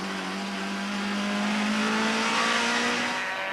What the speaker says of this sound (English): Briggs then muscled his way past George Brazaidnote at Nashua and took Duncan Foss in the 2nd BP Nissan Primera, and Hilton Cowie in the Minolta Toyota Coro